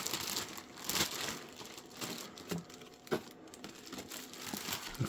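Packaging crinkling as a Yokomo YZ-870c Super DogFighter RC car kit is unboxed, soft close rustling and small crackles in irregular bursts, fairly quiet, no talking.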